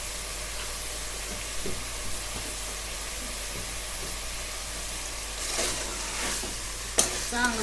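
Savji-style mutton masala frying in a pan, a continuous broadband sizzle with scattered scraping stirs, louder clattering strokes near the end and one sharp utensil knock.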